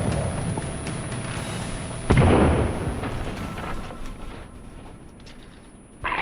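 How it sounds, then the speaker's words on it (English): Grenades detonating in a forest shooter game: a loud, sharp blast near two seconds that decays into rumble over a dense, steady bed of combat noise, with a second burst right at the end. "I'm throwing a lot of grenades at him"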